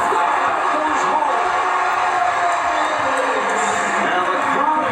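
A basketball arena crowd cheers in a steady, loud roar that fills the space and holds without a break, with a commentator's voice running over it.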